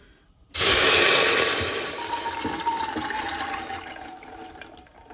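Water gushes loudly into a metal pressure cooker holding chickpeas, a steady rushing pour that gradually softens as the vessel fills; no voices.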